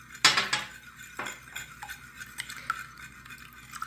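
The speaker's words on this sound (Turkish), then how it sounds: "Hepsini güzelce çırpıyorum" Egg, salt and a few spoonfuls of water whisked in a bowl for kebab dough, a brisk clattering of utensil against dish in quick bursts, loudest at the start and then lighter, scattered taps, close by with no voices.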